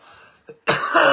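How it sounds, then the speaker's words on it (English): Harsh, explosive coughing fit after a dab hit, starting with a short throat-clearing burst and then breaking into loud, sustained hacking up close. "the amount of coughing that I do after I dab"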